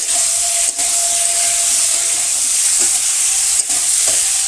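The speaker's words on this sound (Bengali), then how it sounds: "লাল ভেজে নিচ্ছি।" Tilapia pieces frying in hot oil in a village kitchen give off a steady, loud broadband sizzle, with a couple of brief stirring scrapes breaking the hiss.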